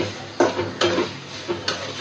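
Loitta dried fish being stirred and fried in a pan, a soft steady sizzle broken by three or four sharp scrapes and taps of a utensil against the pan, close and alone.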